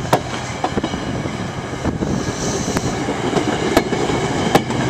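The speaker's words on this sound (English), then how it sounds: "It's a classic train sound. Here comes the engine." A Metra inbound commuter train engine rolls past in Geneva with steady clickety-clack of wheels over rail joints, sharp rhythmic clicks recurring through a loud continuous rumble close by, with no talk.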